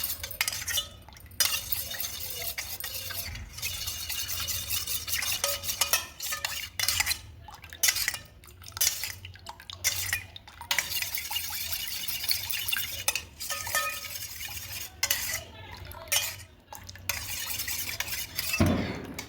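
A spoon stirs homemade lemon dishwashing liquid in a container, clinking and scraping against the sides in irregular bursts for a long stretch, close and fairly quiet, with brief pauses between rounds of mixing.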